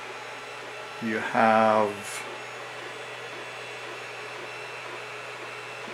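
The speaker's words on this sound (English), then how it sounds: "this is the 3D printer." A 3D printer runs with a steady whirring hum that holds throughout, and a voice speaks briefly over it near the start.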